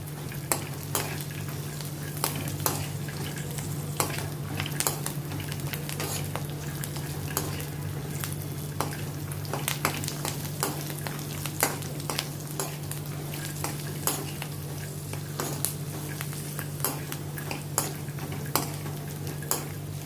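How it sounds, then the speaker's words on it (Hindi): Cashews, almonds and peanuts roast together in a pan with little oil, a soft steady sizzle broken by frequent scraping and clinking stirs of a spoon, close up and without talk. "इनको भी अभी मैं रोस्ट करती हूँ आलमंड्स और पीनट्स के साथ।"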